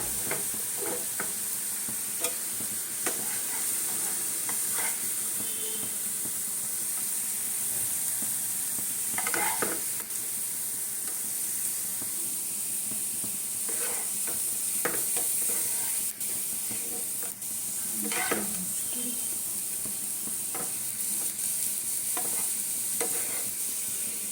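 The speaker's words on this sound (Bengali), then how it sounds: "দেখো এইভাবে একদম মুচমুচে করে ভেজে নিতে হবে" Flattened rice (chira) is stirred and fried crispy in a pan, giving a continuous hissing sizzle broken by repeated scraping and rustling stirs, steady and moderately loud throughout.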